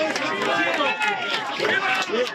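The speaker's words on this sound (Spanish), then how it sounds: "así, entre vítores y aplausos, eran recibidos los Reyes" A crowd greeting the arriving King and Queen of Spain cheers and applauds in a continuous, lively wash of voices and clapping at moderate distance.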